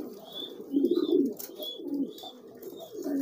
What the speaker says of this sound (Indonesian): kebetulan ada merpati nih